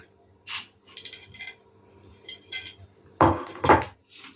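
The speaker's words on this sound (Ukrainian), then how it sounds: "Я накрию знову тарілкою і знову переверну таким чином." Ceramic plates clink and scrape as a plate is laid over a warm pumpkin semolina kefir cake and the cake is flipped, a few short knocks followed by two louder clatters near the end.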